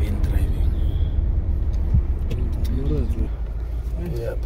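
Steady low road rumble of a car driving, heard from inside the cabin, continuous and fairly loud throughout with faint voices and small rattles over it.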